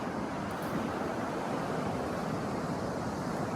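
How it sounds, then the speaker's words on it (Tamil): Ocean surf on a beach in Oman rolls in as a steady, broad wash of breaking waves, continuous and moderately loud with wind blowing over it, no voices. "அங்கே அடிக்கிற அலை சத்தம் வந்து இங்கே கேட்குது"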